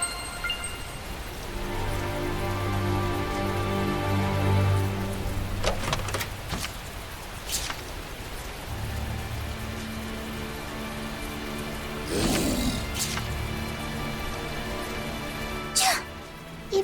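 Steady rain falls in the video game Tales of Zestiria, a constant hiss under game music and sound effects, with a few sharp impacts partway through.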